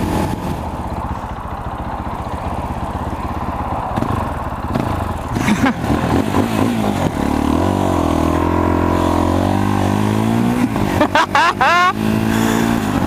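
A Fantic Caballero 500 motorcycle engine is revved repeatedly, its rising and falling single-cylinder bark loud and close, heard under a voice and wind noise.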